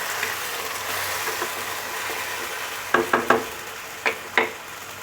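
Steady soft sizzling of ground taro paste frying in a pan, interrupted by a few sharp scraping stirs of a spatula near the end.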